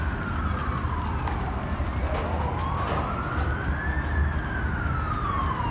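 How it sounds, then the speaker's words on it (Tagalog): An ambulance siren wails as it passes along a busy city street, its rising and falling tone gliding over steady traffic rumble, fairly near and loud throughout. "may ambulansya"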